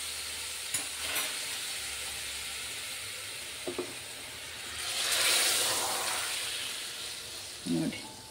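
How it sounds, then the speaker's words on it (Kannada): Tempering of spices sizzling in hot oil in a pan for hotel-style idli sambar, a steady frying hiss with a louder surge midway and a few light clinks and stirring knocks, no talk. "ಈಗ ಒಗ್ಗರಣೆ ಒಂದು ಹಾಕ್ತೀವಿ"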